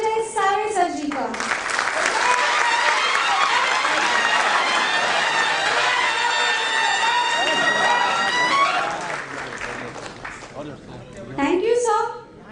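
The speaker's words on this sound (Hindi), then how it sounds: "आइए जोरदार तालियों के साथ मंच पर स्वागत करते हैं न्यूली री elected president of our unit, comrade Sanjay Save sir जी का" Applause and cheering from the audience at a bank officers' association annual general meeting as the newly re-elected unit president comes on stage, loud sustained clapping for several seconds with an announcer's voice over the start and end.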